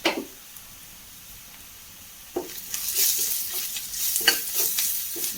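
Crushed chilli drops into a hot pan and starts to sizzle and fry, with a spoon stirring and scraping in close, irregular strokes, building from near quiet to a steady, loud crackle.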